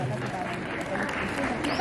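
Audience applause at a lamp-lighting ceremony for a Vivekananda Jayanti seminar, a steady patter mixed with crowd murmur and talking voices.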